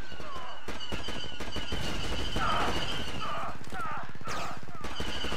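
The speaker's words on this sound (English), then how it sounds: "Oh, he's got one of those chain guns." A chain gun fires in rapid, continuous bursts in Star Wars Battlefront II with the KOTOR Malachor V mod, sharp repeating shots mixed with other battle noise while a player talks over it.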